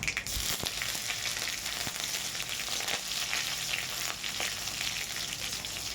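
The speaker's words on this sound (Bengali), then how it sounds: "তারপর একটু নাড়াচাড়া করে নেব একটু লঙ্কাটা যতক্ষণ ভাজা হয়" Chili flakes and chilies sizzling steadily in oil in a pan while cooking masala dosa filling, a loud continuous close-up fry with occasional stirring scrapes and no talking.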